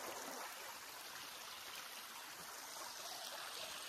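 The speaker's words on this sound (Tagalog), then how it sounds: "Ito yung kanilang sapa." A creek in Muir Woods flows steadily, a constant soft rushing and trickling of water with no breaks, moderately distant and fairly quiet, heard on its own without voices.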